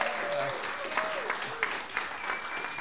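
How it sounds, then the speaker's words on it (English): Applause from a live jazz concert audience at a radio station performance space, a steady patter of clapping with faint voices and whoops mixed in, moderately loud and continuous. "Give yourselves a round of applause."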